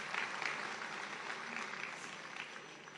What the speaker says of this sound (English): Can we clap hands for him?